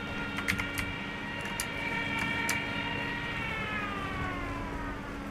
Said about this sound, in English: Stuka.